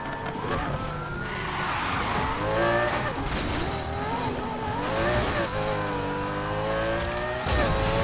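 A Lamborghini Huracan in Need for Speed Heat screams at high revs, its engine pitch climbing and dropping through gear changes, with tire squeal and a loud, close racing roar throughout.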